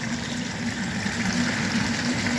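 A 1/2 horsepower submersible sump pump pushes water in a constant, loud rushing gush with an even low hum beneath it, steady from start to finish.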